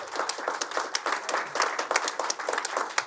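An audience claps steadily, with individual hand claps distinct within the applause, at an event announcing Pimlico Racecourse and the Preakness Stakes staying in Baltimore. The sound is moderately close and carries no talk.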